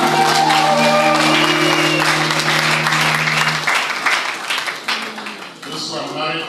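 A church choir congregation claps in a dense, continuous patter, mixed with voices and sustained tones that fade after a few seconds, leaving looser clapping and chatter.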